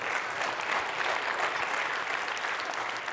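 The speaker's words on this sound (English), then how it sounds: "Can we get another round of applause for that hot girl in the video?" Steady applause from an audience at a Provo State of the City 2024 event, a continuous moderately loud patter of many hands clapping with no voices, holding level throughout.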